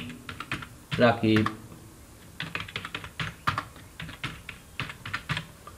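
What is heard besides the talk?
typing on a computer keyboard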